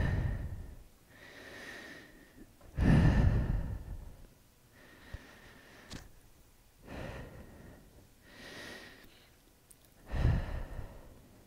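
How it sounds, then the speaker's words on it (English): Slow, deep breaths during a yoga session, each long inhale and exhale drawn out over a couple of seconds. Several full cycles follow one another in a calm rhythm, heard close and clear with no talking. "And breathe."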